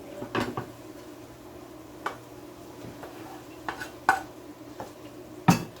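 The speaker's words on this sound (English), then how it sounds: "I'm gonna go ahead and add the rest of my vegetables" Vegetables going into a pot of Jamaican curry shrimp with coconut milk, with quiet scattered clinks and scrapes of a utensil against the pot and a soft background hum, no talking.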